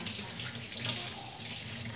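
A small splash of water pours into a pan of mung beans and cooking oil for a sweet fried sesame ball filling, a short, steady, close stream with no talking.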